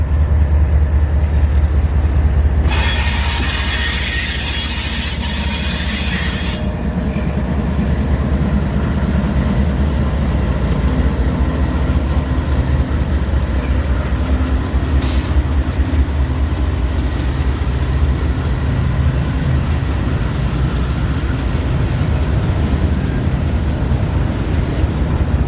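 A CSX to Union Pacific transfer freight train rumbles past nearby for a long stretch, a heavy continuous roar of wagons with a brief high squeal early on.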